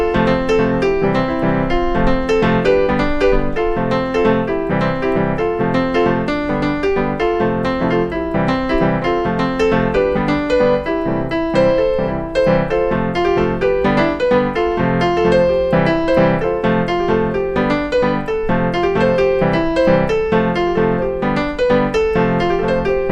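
Piano chords played at normal tempo with independent rhythms in each hand, a steady, dense stream of overlapping notes, close and full, with no talking.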